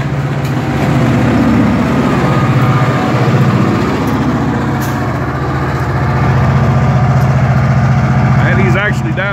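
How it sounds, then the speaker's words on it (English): EMD SD38-2 diesel locomotive working hard in throttle notch 8 on a coal railroad push-pull train, a loud, steady low engine roar with throbbing rumble throughout, while someone talks over it. "He's in throttle run 8 right now."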